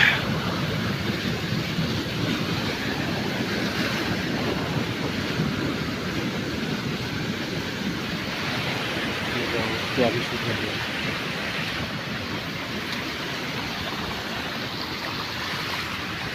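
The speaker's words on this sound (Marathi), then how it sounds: "कसलं पाणी प्रचंड आलंय." Floodwater from a breached dam after heavy rain rushes past in a steady, broad roar, unbroken and fairly close for the whole stretch.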